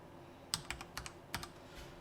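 Keys clacking on a computer keyboard while entering a search term in the Unreal Engine editor: a few quick, close, crisp taps in a short irregular burst, with quiet in between.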